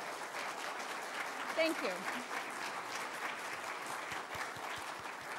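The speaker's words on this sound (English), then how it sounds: "we'll give you a quick round of applause" Steady, moderately distant applause from a crowd fills the whole stretch, with a brief voice speaking over the clapping.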